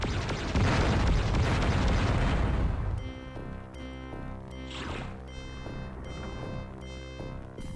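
Gunfire and blasts in the Descent video game: a loud, dense explosive roar for about three seconds, then a faster series of sharp repeated shots over tonal game music.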